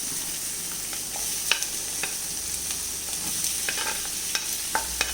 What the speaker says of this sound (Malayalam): അതിലേക്ക് നമുക്ക് ഉരുളക്കിഴങ്ങും മട്ടറും ഇട്ട് കൊടുക്കാം.